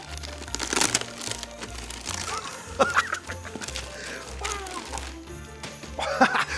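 A Christmas gift being unwrapped, with crinkling paper and sharp tearing bursts over a low background hum, close and moderately loud, a few bursts standing out.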